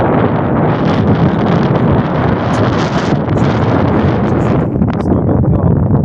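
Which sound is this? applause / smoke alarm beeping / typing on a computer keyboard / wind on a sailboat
wind on a sailboat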